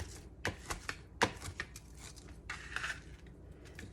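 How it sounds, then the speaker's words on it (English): A knife chops cooked bacon with a quick series of sharp, crisp knocks, close and clear with short gaps, a few stronger strikes standing out among lighter taps. "Just gonna give our bacon a nice little chop"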